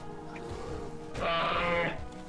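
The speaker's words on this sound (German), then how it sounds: "Die Schafe rennen alle weg." Sheep bleat in a short burst in The Elder Scrolls IV: Oblivion as they flee, one long wavering cry rising loud near the end over a faint musical background.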